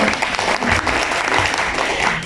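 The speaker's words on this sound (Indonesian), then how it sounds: "Tepuk tangan dulu dong Bapak Ibu." Applause from the audience at a hospital health seminar on thalassemia and leukemia treatment, a steady, dense clapping that holds evenly for about two seconds.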